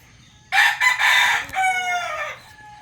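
A young gamecock stag crows loudly and close by in the early-morning dark, one long, strained call in several ragged phrases that trails off, with no other sound around it.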